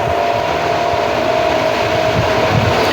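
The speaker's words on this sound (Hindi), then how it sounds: "अभी फ़ैन वगैरह ऑन है" A steady broadband whir of a running electric fan with a faint constant hum, unchanging throughout and with no voices.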